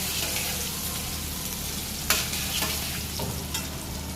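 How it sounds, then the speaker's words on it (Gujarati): Potato pieces fry in hot oil with a dense, continuous sizzle, broken by a couple of faint stirring knocks. "હવે પહેલા બટાકું તેલમાં તળી દઉં."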